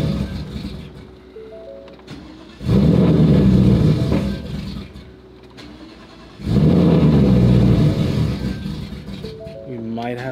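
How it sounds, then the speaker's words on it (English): A car that has sat for a while and has failing fuel pumps is cranked over on a cold start, with two loud, sustained engine bursts separated by a lull and speech around them. "Let's get this cold start up."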